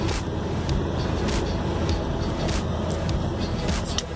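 A 1956 Chevy called Dirty Gurdy rolls along in first gear after being revived, a rough, steady low engine rumble close to the microphone, with faint intermittent clicks and rattles.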